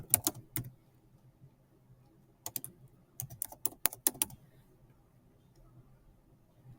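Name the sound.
typing on a computer keyboard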